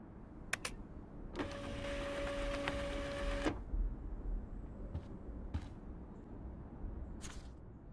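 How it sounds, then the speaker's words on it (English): An office printer in the video game Life Is Strange whirs steadily for about two seconds with a tonal mechanical hum, followed by a few faint clicks and taps in a quiet room. "Now I have to print this fast and get the hell out of here."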